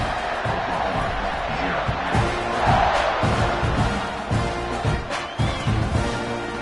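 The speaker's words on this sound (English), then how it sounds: "this crowd now ready to get behind them" A stadium crowd in a college football video game, Oklahoma at Texas A&M, keeps up a loud, steady roar of cheering and shouts before a kickoff, with an announcer's voice talking over it.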